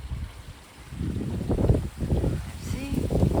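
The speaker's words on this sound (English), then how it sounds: "it's windy by the sea, but it's 10 times worse up here" Gusty wind buffets the microphone in loud, rumbling bursts, rising and falling without a break, in Brighton near the sea.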